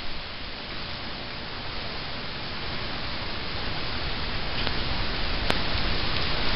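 Steady rain falls outside, a dense, even hiss of drops that grows slightly louder toward the end, heard alone without any voices.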